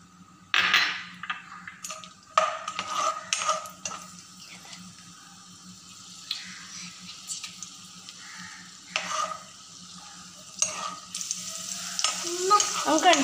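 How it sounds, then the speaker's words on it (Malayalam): Cashews and raisins fry in hot coconut oil, a steady close sizzle broken by repeated bursts of stirring and spoon scrapes against the pan, rising louder toward the end. "നമുക്ക് അണ്ടിപ്പരിപ്പും മുന്തിരിയും വറുത്തിട്ട് വറുത്തെടുക്കുക"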